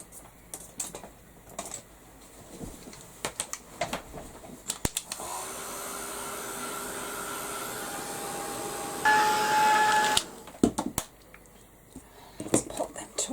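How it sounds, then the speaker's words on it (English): A heat gun roars on for a few seconds as it blasts small painted pieces. The steady blowing rises loudly and then cuts off, with clicking and handling noises before and after. "So I'm going to give these a quick blast with the heat gun."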